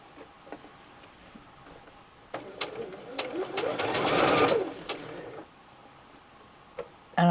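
Domestic sewing machine stitching quilt seams for a sofa throw, a short whirring run of a couple of seconds that rises and stops, with quiet handling sounds before and after; a voice talks over parts of it.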